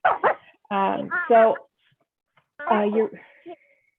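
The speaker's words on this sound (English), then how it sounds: "We're hearing dogs and children." A dog yips and barks in a few quick bursts with whimpering notes, coming through an open phone line into a public board meeting. The sound is close, thin and clipped, in two short clusters separated by silence.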